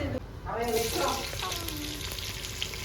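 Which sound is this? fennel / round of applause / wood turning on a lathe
fennel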